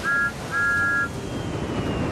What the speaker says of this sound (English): with a toot of his whistle